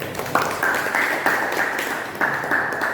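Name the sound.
class applauding a student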